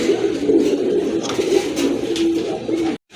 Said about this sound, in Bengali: একজোড়া রেসার কবুতর দেখেন